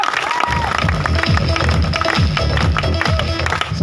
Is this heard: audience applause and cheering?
yes